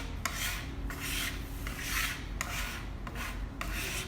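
Scone dough being scraped off a work surface, a series of rough rasping scrape strokes, close and rhythmic, with no voices.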